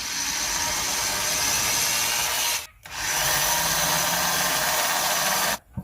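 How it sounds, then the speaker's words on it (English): A handheld power drill bores holes into a wooden surface fishing lure, a close, loud, steady high-pitched whine held for several seconds, stopping briefly and then starting again before cutting off near the end. "Just trying to drill straight holes without a press."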